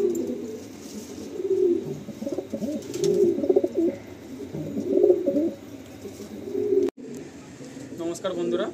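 Madrasi pigeons coo in repeated low, throaty rolling phrases, close by, with someone talking intermittently over them and a brief sharp knock near the end.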